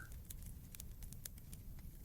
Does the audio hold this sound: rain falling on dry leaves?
yes